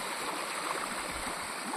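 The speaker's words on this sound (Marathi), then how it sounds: "खूप जास्त पाणी वाहतंय." Floodwater from the swollen Bhima river pours into a sugarcane field with a steady, close rushing and gurgling that holds at an even loudness throughout.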